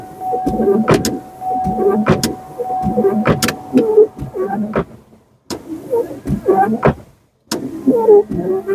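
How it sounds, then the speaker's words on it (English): A 2003 Chevy Cavalier wiper motor runs close by with a steady electric whine and repeated clunks as the arms sweep, pausing briefly partway through before starting again. "See if they do the wiper motor things."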